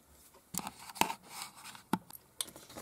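A paper piece for a handmade craft tag is cut, with a few quiet, separate snips and light paper rustles spaced irregularly, close by and faint, with no talking.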